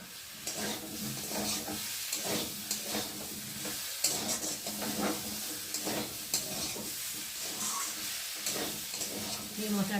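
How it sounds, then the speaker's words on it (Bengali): Spice masala with green chillies frying in a pan, sizzling and hissing steadily while a spoon scrapes and turns it in irregular strokes, with a voice talking over the cooking. "একটু ভালোভাবে কষিয়ে নেব যতক্ষণ না মশলাটা কাঁচা বন্ধ যাবে ততক্ষণ কষাবো"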